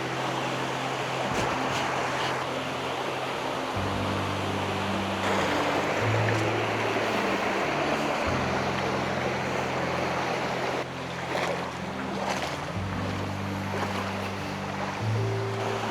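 The Kanomeljca stream rushing through a gorge, a steady broadband wash of flowing water close by, continuous and fairly loud with faint low tones beneath and no talk.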